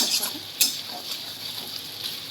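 A fish head fries in oil in a pan for moong dal, giving a soft, continuous sizzle with a few light scraping strokes, moderately close.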